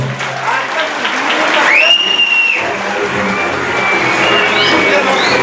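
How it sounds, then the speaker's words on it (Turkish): Loud, sustained applause from a large crowd at a Turkish mayoral campaign event in Büyükçekmece, with cheering and a brief whistle riding over the clapping. "şöyle güçlü bir alkış talep ediyorum"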